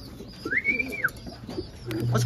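Racing pigeon arriving at its loft during a first-lap derby, with a clear bird call and soft cooing up close over light outdoor background noise.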